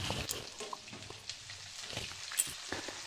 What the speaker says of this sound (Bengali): পেঁয়াজটা ভালো করে ভাজা করে নেব।